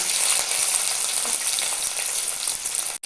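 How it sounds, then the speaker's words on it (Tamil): Mustard seeds sizzle and crackle steadily in hot oil in a home kitchen while sambar and cabbage poriyal are being made, a dense continuous frying hiss with small pops and no talking. "எண்ணெய் ஊற்றிட்டு எண்ணெய் காஞ்சதும் கடுகு சேர்த்துருக்காங்க"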